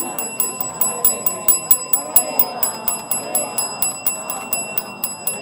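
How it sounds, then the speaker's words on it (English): Bell rung to close a Hare Krishna chanting session, a rapid, regular series of bright, ringing strikes with sustained tones, continuing steadily and loudly throughout. "Closing bell."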